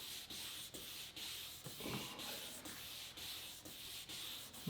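A pad rubbed by hand over a recessed plastic headlight lens in steady back-and-forth sanding strokes, a close, even scratchy hiss repeating roughly every half second with no talk.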